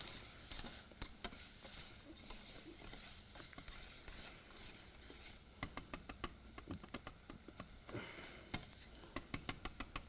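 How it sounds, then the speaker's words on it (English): Beef patties fry in a hot pan on a lowered burner, giving a steady close sizzle broken by crackling pops and sharp spatter ticks that grow denser and more rhythmic toward the end, with no talking. "I'm going to turn this down some because I'm going to start doing my patties now."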